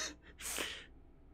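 A single person sneezes nearby: a sharp breathy intake, then one loud burst and a fading exhale, with no talking during it.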